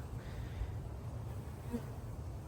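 Honey bees buzzing around a hive on a winter inspection, swarming over pollen substitute, giving a steady low hum close by with no talk.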